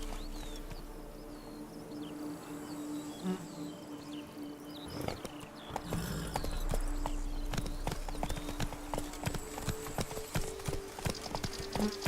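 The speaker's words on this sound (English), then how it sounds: "Whoa there, Roach." Horse hooves clip-clop in The Witcher 3 in the Toussaint countryside, a rhythmic walking beat that grows denser and louder midway, layered over a constant buzz of insects and crickets, with no talk.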